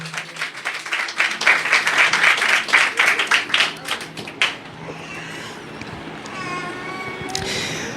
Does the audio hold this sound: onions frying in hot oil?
no